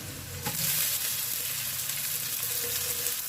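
Boiled vermicelli hitting a hot pan with fried chilli and chopped ginger, a steady close sizzle and crackle running the whole time, with a brief clatter of stirring near the start.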